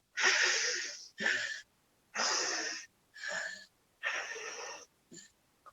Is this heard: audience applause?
no